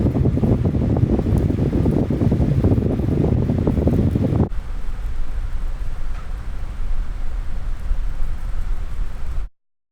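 Wind buffets a microphone fitted with wind protection, a dense, steady rush that is heavy and loud at first, then drops abruptly to a lighter hiss before cutting out.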